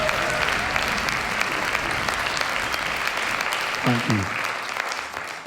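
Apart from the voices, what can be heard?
audience applause at folk festival concert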